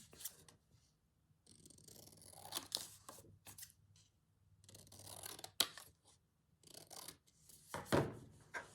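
Scissors cutting down a card for a journal pocket, a series of close, quiet snips and paper rustles in irregular bursts with short silent pauses between.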